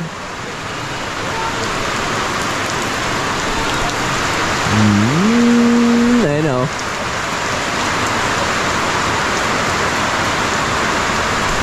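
Heavy morning rain in early April pours in a dense, steady roar throughout, with a brief voice speaking partway through.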